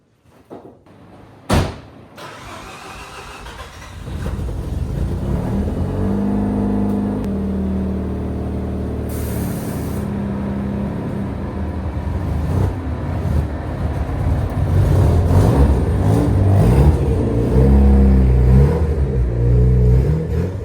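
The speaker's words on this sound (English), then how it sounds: "So let's move the RX-7 out." A Mazda RX-7 is driven out of a garage: a door clunk, then the engine starts and idles, with revving rising and falling near the microphone, with no talking.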